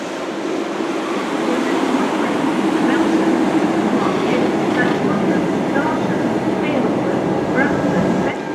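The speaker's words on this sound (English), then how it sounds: "pulling out now is the 1408 Abellio Greater Anglia service to Norwich, calling at Dis and Norwich" An Abellio Greater Anglia passenger service departs Ipswich station on the Great Eastern Main Line, a steady close rumble of the train pulling out that fills the whole stretch, with faint wheel clicks and squeals over the low roar.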